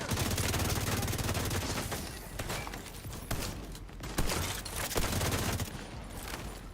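Heavy gunfire in The Division 2, dense overlapping automatic bursts and shots forming a loud continuous barrage with occasional sharper cracks standing out.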